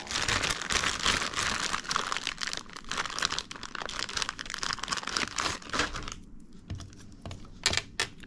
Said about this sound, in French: Je prends mon scotch 3D.